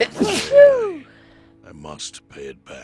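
A character in Yakuza: Like a Dragon sneezes once, a sharp breathy burst right after a spoken line, followed by more game dialogue.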